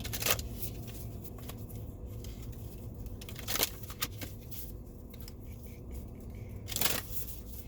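A deck of magical spell tarot cards is shuffled in several quick riffling bursts, with quieter soft card handling in between, all close and fairly faint.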